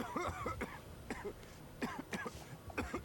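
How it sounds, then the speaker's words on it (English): Repeated short, sharp coughs in quick succession, fairly quiet and close, with throat-clearing sounds between them. "you've been coughing since I walked in here"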